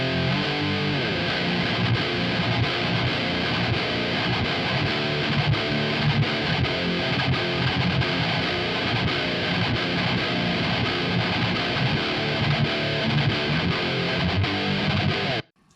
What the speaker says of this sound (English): I have the Revv recorded with the direct out